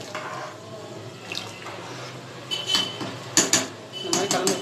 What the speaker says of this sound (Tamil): ஒரு வாட்டி கலந்து விட்டுருங்க.